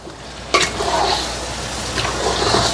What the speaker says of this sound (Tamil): சிக்கனை வடிவாக வதக்கி எடுக்க போகிறோம்